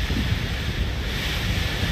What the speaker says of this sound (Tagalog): Sana lumuwas na itong bagyo, no?